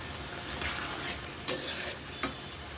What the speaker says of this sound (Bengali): এবার রান্নার পানি দিয়ে দেব